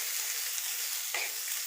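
Onions frying in a pan while making brinjal chutney give a steady, close sizzle with a brief louder crackle partway through. No one speaks.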